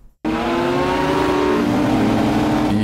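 A race car engine in a Gran Turismo 3 replay roars in loudly and suddenly, then holds a steady high-revving drone with a shift in pitch partway through.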